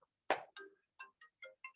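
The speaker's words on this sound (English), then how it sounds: "Why is my phone ringing?" A phone rings with a short run of bright electronic tones, a louder first note followed by a handful of quick, evenly spaced chirps, clear and alone in a quiet room.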